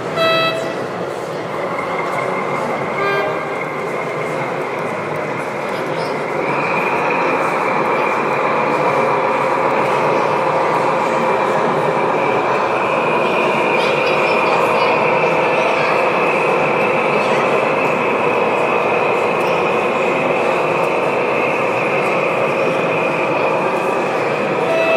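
A gauge 1 model train with matching wagons runs at a model railway meet in Munich, giving a steady, loud rolling hum with a sustained tonal whine and a few short toots near the start.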